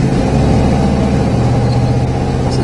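A 1987 Dodge Ramcharger with Flowmaster mufflers runs steadily nearby, its engine giving a continuous deep, throaty low rumble with a slight whir, no speech over it.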